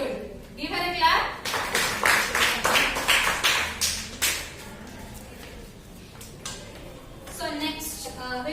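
A burst of lively clapping from a group of children in a classroom, several seconds of quick overlapping claps, close and loud, with a voice speaking before and after.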